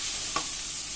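Finely chopped onions fry in a pan with a steady bright sizzle and one brief scrape of stirring, close up and continuous with no speech.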